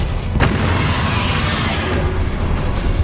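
A Bombarda explosion spell detonates during Hogwarts Legacy combat: a sharp burst near the start swells into a loud, continuous low rumble that fills the whole stretch, with a second flare of noise later on.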